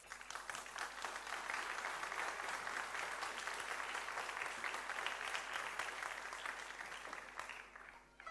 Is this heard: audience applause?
yes